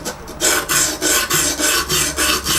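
A knife blade is drawn across the sharpening stone of an Exduct E0931D sharpening system in a steady series of close, raspy strokes, gently removing a burr.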